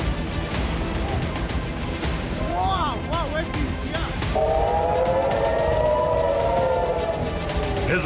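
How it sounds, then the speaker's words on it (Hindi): Red alert air raid sirens wail across northern Israel during Hezbollah rocket attacks. Brief rising and falling tones give way to a sustained wavering siren over a noisy, rumbling background. "हिजबुल्ला के हमलों से इसराइल में रेड अलर्ट के सायरन गूंजने लगे।"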